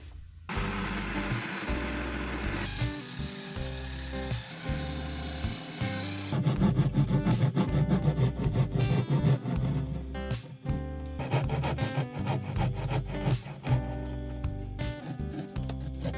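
Hand saw cutting through material to make a hole for fitting a diesel FF heater, a fast rasping back-and-forth stroke rhythm that is loud and close and continues throughout.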